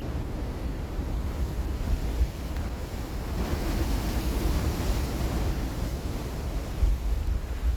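Strong sea waves meet rushing rainwater at the Kizhur river mouth in Kasaragod, a loud, continuous roar of surf with wind buffeting the microphone and no voices.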